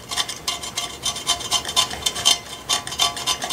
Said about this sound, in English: you kind of hear the blade scraping on the frame there